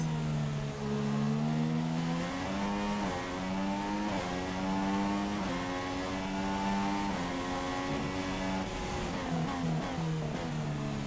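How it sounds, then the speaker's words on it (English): McLaren Formula 1 car engine in the F1 2016 racing game, revving high then dropping pitch in stepped downshifts, loud and close, with a brief rise near the end. "You hear that McLaren as he goes down the gears"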